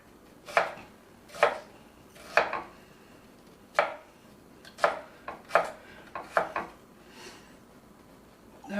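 Knife chopping onion on a cutting board, a run of close, crisp knocks, some spaced and some in quick pairs, quiet and free of talk.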